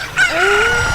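A chicken from the game The Legend of Zelda: Ocarina of Time Master Quest gives a single loud, clear squawking cry that rises and holds briefly.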